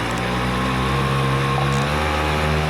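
Jet Turbo engine on a motorized bicycle, fitted with a silencer, runs at half throttle, giving a steady, close, humming drone with even pitch throughout.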